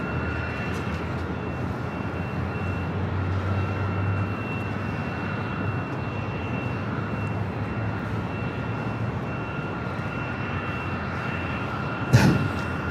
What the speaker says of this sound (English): up next is that 777-300ER coming up from Guangzhou, China Southern Airlines, flight 327